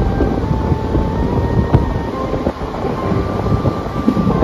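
The Howrah–Kalka Netaji Express rolls along at about 100 km/h, heard from inside as a loud, continuous rumbling roar with steady rail clatter and a faint high whine.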